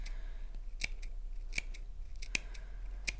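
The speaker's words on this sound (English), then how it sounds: "I'm just going to snip into the seam allowance of the base" Scissors snip into the seam allowance of a fabric bag base, giving four crisp, evenly spaced cuts close by with quiet pauses between them and no talking.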